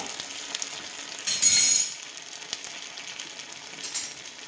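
An appam cooks in a pan over a medium flame, giving a soft steady sizzle with a brief louder hiss near the start and faint clicks, no voices.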